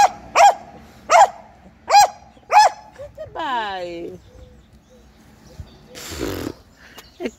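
A dog barks four times in a steady rhythm at moderate distance, followed by a whining, rising bird-like call and a short burst of noise, with no talking.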